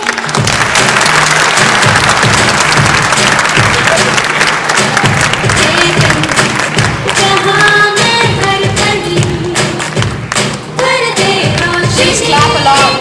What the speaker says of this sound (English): Please clap along.